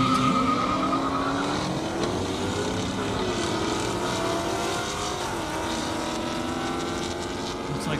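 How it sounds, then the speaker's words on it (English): Mustang GT cars drag race on an airport runway, their engines roaring loud and sustained as the pitch climbs and shifts through the gears, blended with other engine noise. "Now I got Greg coming up in a Mustang GT, Steve Crabtree in another Mustang GT."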